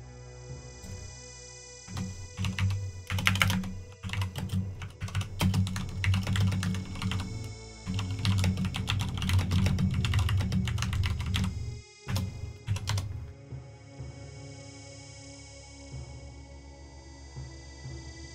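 Steady typing on a computer keyboard while entering Commodore 64 BASIC game code, rapid irregular key clicks in bursts for about thirteen seconds, close and fairly quiet, then stopping into a faint electronic hum.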